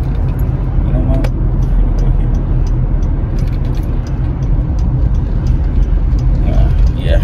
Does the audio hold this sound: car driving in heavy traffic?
yes